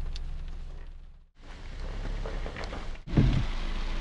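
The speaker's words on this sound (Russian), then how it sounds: "дождь идет" Heavy rain pours down around a car during a road trip through the Carpathians, a dense steady hiss broken by two brief dropouts, with a low rumble underneath.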